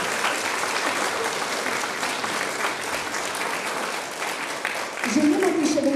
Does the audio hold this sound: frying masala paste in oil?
no